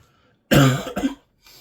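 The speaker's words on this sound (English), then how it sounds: "I've got a cough." Two close, harsh coughs in quick succession, the second shorter, followed by a faint breathy sound after a brief pause.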